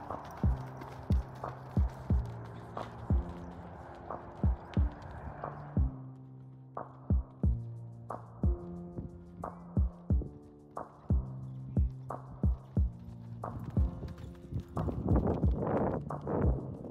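A horse's hooves strike the ground in a steady walking rhythm, each clear, distinct clop repeating at regular intervals over a low steady hum, growing busier and noisier near the end.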